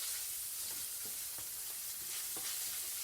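Spam browns in bacon grease in a pan, giving a continuous close sizzle with a few soft stirring scrapes and pops, and no voices.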